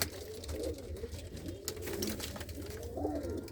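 Pigeons in a loft coo softly and repeatedly, low rolling calls close by over a faint background hum, with no talking.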